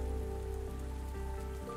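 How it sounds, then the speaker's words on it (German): Steady rain patters onto surfaces in a video game during an autumn in-game scene, a continuous moderate wash with a low tonal game-music hum beneath and no talk. "Oh, es regnet."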